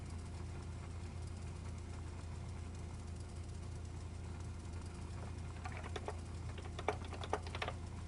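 Someone typing on a computer keyboard at a distance, a few faint scattered key clicks late in the clip over a steady low engine-like hum.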